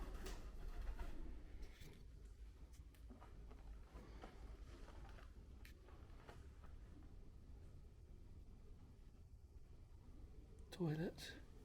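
Pigeons in an abandoned gym at a historic rail works give a short, throaty coo near the end against a hollow, low room hum, scattered small knocks and faint voices.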